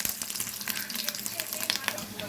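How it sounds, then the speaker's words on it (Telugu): Homemade paneer made from split milk crackles and sizzles in hot oil in a pan, a busy, continuous spattering close by. "ఆయిల్లో పన్నీర్ వేసేసుకున్నాం."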